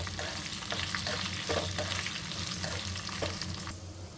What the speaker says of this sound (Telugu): ఇప్పుడు ఇందులోనే ఎండుమిర్చి వేసుకుందాం ఇవి నల్లగా కాకూడదు